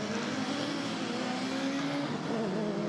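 Touring race cars, including a Seat Leon and a BMW, race past with a steady, moderately loud engine drone and shifting pitch, blended with ambient track noise.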